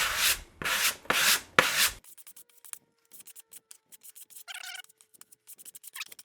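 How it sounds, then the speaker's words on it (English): A stainless steel taping knife works spackle into a wall crack with soft scraping and rubbing strokes, loud sweeping passes at first, then lighter, scattered scratches close by with no voices. "I'm just going to take some spackle, and then I can kind of just work that into that crack."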